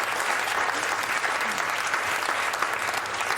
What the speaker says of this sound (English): Give a round of applause for Matt Smith